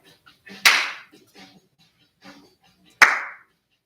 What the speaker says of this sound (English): Let's add a clap.